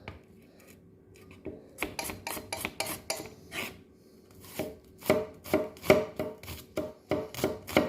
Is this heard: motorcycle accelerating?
no